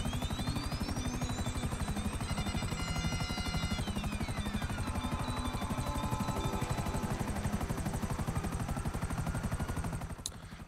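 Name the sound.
helicopter in video game GTA Online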